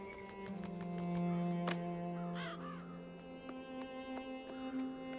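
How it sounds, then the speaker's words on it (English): Crows in the video game Child of Light caw in a few hoarse calls over sustained low musical tones, moderately loud and clear in the mix. "All these crows in hats."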